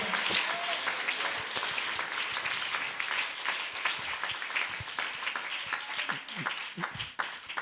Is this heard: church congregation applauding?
yes